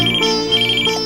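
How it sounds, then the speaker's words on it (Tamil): A phone ringtone plays continuously and loudly up close, a steady electronic melody filling the moment in a home scene, with no voices over it. "போன் எடுப்பா."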